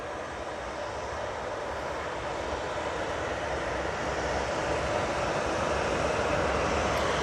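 TUI airliner on approach to land at Manchester Airport, a steady broad jet engine roar that holds loud and even throughout, heard close and alone.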